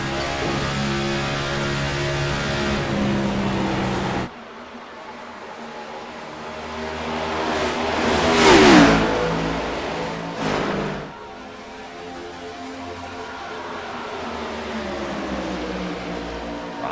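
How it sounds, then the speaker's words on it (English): A NASCAR Cup Series race car at Charlotte roars loudly, shifting up into fifth gear and then dropping down to fourth, its engine note climbing to a peak as it passes close by and then fading. "On board Rothling, passes the stripe, shifts it in 5th, and listen, downshifts in 4th"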